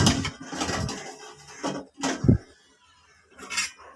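Metal idli plates filled with batter clink and clatter as they are set into a steel idli cooker, several sharp knocks and scrapes spaced apart, close and fairly loud.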